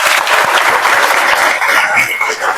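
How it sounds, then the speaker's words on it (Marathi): A lecture-hall audience gives a teacher sustained, loud applause at a Guru Purnima talk, many hands clapping steadily throughout and tapering slightly near the end. "म्हणून एकदा सरांसाठी जोरदार टाळ्या वाजवा."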